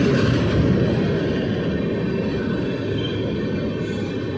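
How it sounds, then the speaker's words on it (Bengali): A passenger train rumbles steadily nearby with a dense, continuous low roar, its noise easing only slightly toward the end as it passes and begins to slow. "আর এই যে তোমার ট্রেন চলে গেল, ট্রেনটা থামবে আস্তে আস্তে।"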